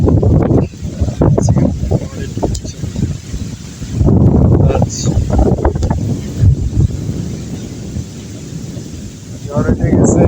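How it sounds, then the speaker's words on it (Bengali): Strong, gusty wind roars and buffets the microphone just before a storm, rumbling loudly throughout while a person talks. "অনেক জোরে বাতাস ছাড়ছে"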